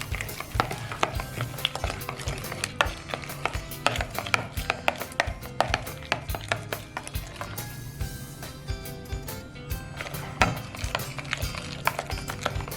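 A vegan spinach dip with a teaspoon of garlic powder being stirred to a smooth, creamy consistency, giving a steady run of close, rhythmic scraping and thudding spoon strokes against the bowl, with no talking.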